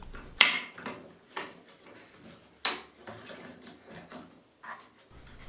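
Crank on the bar clamp of a cordless chainsaw, an Einhell GE-LC 36/35 LI or Makita DUC 353, being turned tight: a few sharp ratcheting clicks and clacks close up, separated by quieter fiddling handling noises.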